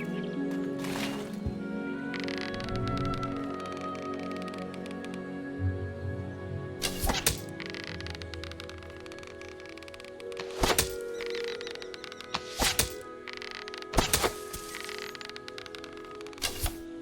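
Bow shots in Fable Anniversary thud sharply into a target several times, separate cracking impacts spaced a second or two apart over a soft ambient game background.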